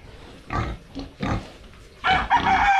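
Pigs grunting and snorting up close in short bursts, followed by a louder, harsher squealing grunt near the end.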